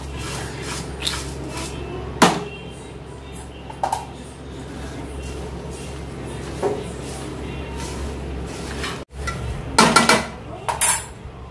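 Bhadang stirred around in a pan, with close scraping and rattling strokes, scattered light clinks, and a few sharper knocks in an irregular rhythm.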